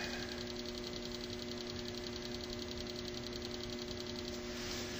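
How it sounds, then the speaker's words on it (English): A metal lathe running steadily at about 1500 RPM gives off a faint, even mechanical hum with a soft rhythmic rattle, unchanging throughout with no talk. "So I'm going to slow the lathe down to about 1500, I think."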